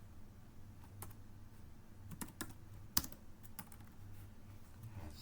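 Quiet typing on a computer keyboard while entering Python code, with sparse individual keystrokes and a few sharper clicks scattered through a soft room hum, close to the microphone and with no speech.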